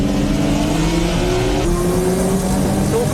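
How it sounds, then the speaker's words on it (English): Nissan Skyline GT-R race cars with over 600 horsepower and Silvia race cars racing at Tsukuba circuit, engines roaring loud and steady with rising revs, several cars blending into one continuous racing din. "The three Silvias are no match for the 600 horsepower plus GT-Rs."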